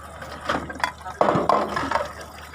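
Cups washed under running water, with close splashing and gurgling bursts of liquid and a few soft clinks over a low steady hum, without clear speech.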